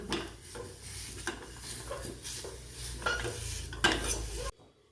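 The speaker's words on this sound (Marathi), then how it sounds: "खजूर अतिशय चिकट असतात त्यामुळं ते थोडं वेगळं करण्यासाठी मी इथे तुपात परतणार आहे" Dates being sautéed and stirred in ghee in a pan, a steady soft sizzle broken by repeated scraping strokes of a spoon against the pan, close and continuous, ending abruptly near the end.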